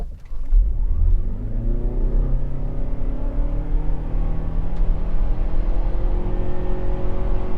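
2022 Toyota RAV4 plug-in hybrid in EV Auto power mode at full throttle, engine rising in a long steady accelerating drone with climbing pitch, loud and close from inside the cabin, no talk.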